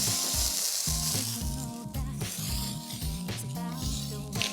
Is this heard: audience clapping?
no